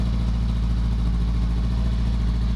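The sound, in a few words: Honda CBR500R with LeoVince GP Corsa EVO exhaust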